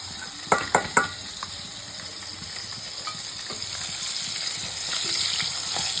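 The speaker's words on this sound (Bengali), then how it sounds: "ভালো করে মাছটা ভেজে নেবেন, কড়া করে" Fish frying hard in a pan with tomato, garlic and ginger paste and green chilli, a steady hiss of sizzling oil with a few metallic clinks early on, no voices.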